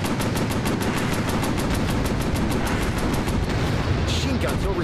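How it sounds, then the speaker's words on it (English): A warplane's machine gun in the VR game Warplanes: Battles over Pacific fires a long, loud, evenly paced stream of rapid shots for about four seconds before easing off. "Machine gun's overheated."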